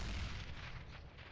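A grenade goes off in the game CS:GO: a heavy, deep boom that hits at once, then rumbles and fades across the short moment with no other sounds.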